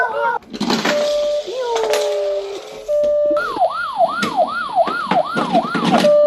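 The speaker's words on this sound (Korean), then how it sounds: "구급차 출동. 삐용 삐용 삐용 삐용 삐용." A Tayo toy ambulance's electronic wailing siren cycles rapidly in repeated rising-falling whoops, loud and close, after a few shorter tonal beeps, with children's voices nearby.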